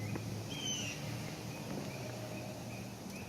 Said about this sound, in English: And I can hear a mockingbird.